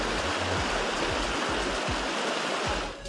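A river in Barangay Landan, Polomolok, South Cotabato rushes with a loud, constant broadband roar. The flow stays steady throughout, with low thumping pulses underneath.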